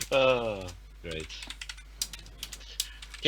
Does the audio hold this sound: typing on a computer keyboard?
yes